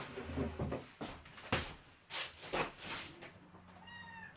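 A cat meows several times in short, close, plaintive calls, spaced irregularly in a quiet indoor room.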